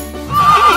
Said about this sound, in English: Your horse says neigh.